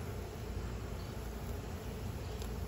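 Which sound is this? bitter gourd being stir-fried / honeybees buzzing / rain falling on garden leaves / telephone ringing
honeybees buzzing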